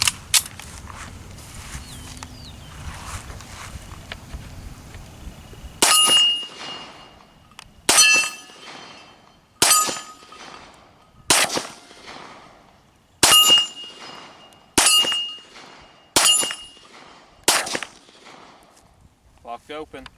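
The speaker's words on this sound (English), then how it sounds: "now I'm going to try a few shots through the Walther P1." A Walther P1 pistol fires about eight loud, sharp shots at uneven intervals, close by, each ringing briefly with a metallic clang, after a quieter stretch where someone talks.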